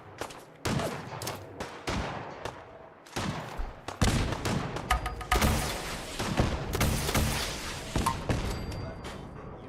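Heavy gunfire from a favored weapon in a shooter video game, loud dense bursts and rapid volleys filling the scene with short pauses between salvos, booming impacts mixed in.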